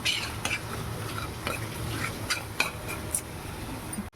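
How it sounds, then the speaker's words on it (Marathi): Masala stirred with a little water in a pan for palak paneer, with light metallic scrapes and taps of a spoon against the pan over a soft simmering sizzle, close and without talk. "थोडंसं पाणी टाकायचं आहे आपल्याला मसाला हा मिक्स करायचा चांगला"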